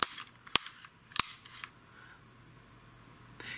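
Several sharp, loud metallic clicks in quick succession from a tape measure's locking brake snapping, then a faint rustle and one last click.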